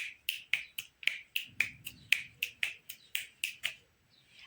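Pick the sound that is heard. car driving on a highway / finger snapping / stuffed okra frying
finger snapping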